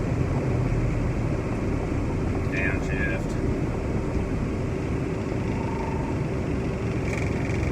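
A 1988 Chevy S10 pickup with a manual five-speed gearbox downshifts, its engine and road noise forming a steady, loud cabin rumble that runs without letup through the whole stretch, with a couple of faint brief chirps partway through.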